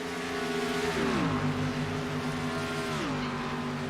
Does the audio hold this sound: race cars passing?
yes